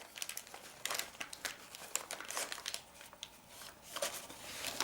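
A plastic piping bag crinkles and rustles in quick, irregular bursts as a large piping tip is slipped down inside it, close up, with no talking.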